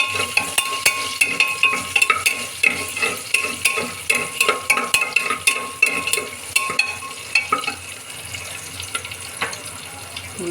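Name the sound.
frying curry leaves in a pan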